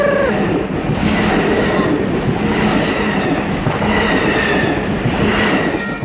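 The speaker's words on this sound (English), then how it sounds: "so we're gonna check out the train" A train rolls past close by at a San Clemente surf spot, with a loud, continuous rumble and rattling wheel clatter that stays steady throughout.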